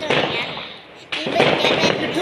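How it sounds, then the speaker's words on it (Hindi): Diwali firecrackers burst and crackle nearby in two loud bursts with a brief lull between, while people talk over the noise. "जा पटाखे फोड़। बाबू इधर फोड़ दे मेरे सारे।"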